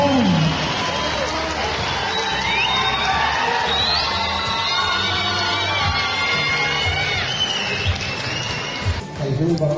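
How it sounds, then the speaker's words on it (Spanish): Audience at a Mexican event welcoming guest Martín Vaca, loud sustained cheering and shouting from a lively crowd with whoops and overlapping voices, continuous throughout and close by. "fuerte un aplauso para el señor Martín Vaca"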